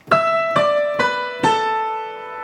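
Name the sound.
piano octaves played with sustain pedal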